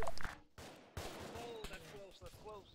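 Rapid gunfire in the video game Arma 3, sharp bursts of shots at moderate loudness, with voices talking over parts of it.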